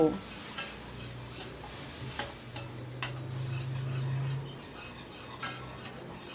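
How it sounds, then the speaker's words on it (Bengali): Spice paste with a little water frying in a pan while being stirred, a steady soft sizzle with occasional scrapes and clinks of the spoon against the pan. "দিয়ে মশলাটাকে ভালো করে কষিয়ে নেব।"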